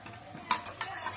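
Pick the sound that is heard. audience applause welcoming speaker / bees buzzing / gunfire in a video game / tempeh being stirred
tempeh being stirred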